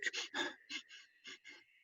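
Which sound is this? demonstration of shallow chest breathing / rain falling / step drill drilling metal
demonstration of shallow chest breathing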